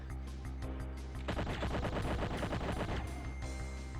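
Video game gunfire from a sniper firing across the map: a steady burst of rapid repeated shots rings out over a continuous musical backdrop, loud and close, then fades back to the music.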